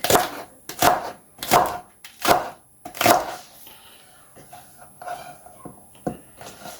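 A knife chops spring onion on a cutting board, first the white part and then the green part into fine pieces: about five crisp, evenly spaced strokes, close and clear, followed by softer, irregular taps.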